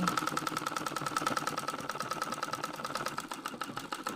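A sewing machine stitches Chinese tape onto Hmong trousers with a fast, even, rattling chatter that runs continuously and close throughout.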